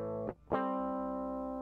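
Clean, unprocessed electric guitar straight from a DI box, no effects: a bright chord rings, cuts off briefly, then is struck again and sustains steadily at an even level with no other sounds.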